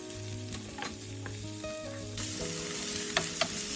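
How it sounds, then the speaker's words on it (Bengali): Onions fry in a pan toward golden brown, a continuous close sizzle with scraping stirs and a few sharp utensil clinks, growing slightly louder partway through, no talking. "তারপরে পেঁয়াজগুলোকে গোল্ডেন ব্রাউন হওয়া পর্যন্ত একটু ভালো করে ভেজে নেব।"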